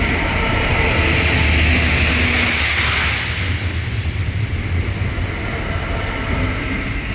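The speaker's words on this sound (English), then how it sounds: "We're about to have a DB Cargo UK Class 66 pass by from Peterborough LIP to Peterborough LIP" A DB Cargo UK Class 66 diesel freight locomotive passes on the East Coast Main Line at Welwyn Garden City, a loud sustained rumble and rush that swells and then eases as the train goes by, with no talk.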